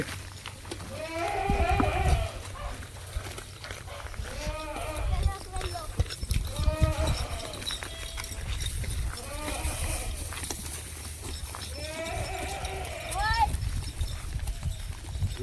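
Goats at a village home near Rajapur and Ratnagiri bleat in repeated wavering calls with hooves clopping amid low rumble and people talking nearby.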